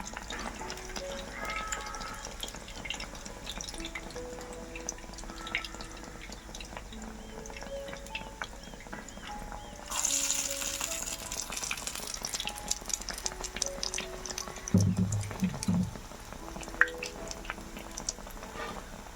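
Bread-based snack pieces fry in hot oil with a steady bubbling crackle and occasional stirring, close and fairly loud, with no talking.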